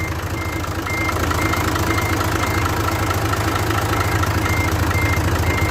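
Hino H07D diesel engine in a surplus Japanese fire truck idling steadily at close range, a loud continuous low rumble with a regular mechanical beat and no voices.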